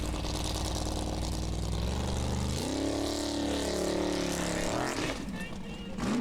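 The offroad buggy "the Fox" revs loudly at a Formula Offroad race in Hella, Iceland, its engine surging and climbing in pitch with a commentator speaking over it.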